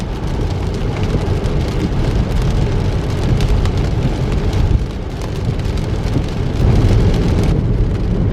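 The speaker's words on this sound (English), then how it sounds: "it's definitely going to be raining for a while" Rain drums steadily on a Tesla during a drive, a dense, even patter with a low road rumble underneath and no voices.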